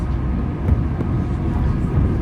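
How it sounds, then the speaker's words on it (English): A well-performing but loud diesel engine of a vehicle heading downhill on a mountain road, a steady low rumbling drone, close and continuous with no talk over it. "well-performing but rather loud diesel engine"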